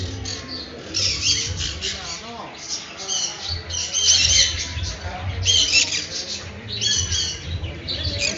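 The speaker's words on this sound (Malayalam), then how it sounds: "ഇഷ്ടം പോലെ പക്ഷികളുണ്ട്," A crowd of caged birds at a fruit fest squawks and chirps in overlapping bursts, with shrill, repeated calls rising and falling throughout over a low background murmur.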